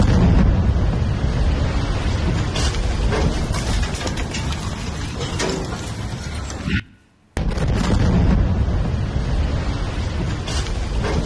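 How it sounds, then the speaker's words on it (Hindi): Explosions from Israeli military strikes on Lebanon rumble as a dense, continuous roar of booming blasts and low rumble filling the sound, briefly cut to silence before resuming at full loudness. "लेबनान पर किस तरीके से आईडीएफ की स्ट्राइक, उससे जुड़ी तस्वीरें आप देख पा रहे हैं।"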